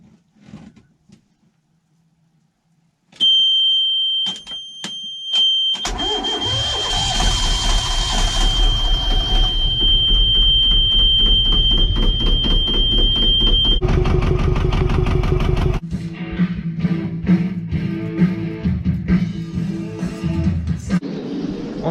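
A sailboat's engine is started after a few clicks and beeps. A high whine rises as it cranks, then it catches and runs with a steady, loud rumble that later shifts to a rougher, chugging idle.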